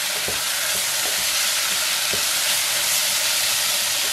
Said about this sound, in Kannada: ಈಗ 1-2 ನಿಮಿಷ ಇದನ್ನ ಎಣ್ಣೆ ಒಳಗಡೆ ಬಾಡ್ಕೊಳ್ಳೋಣ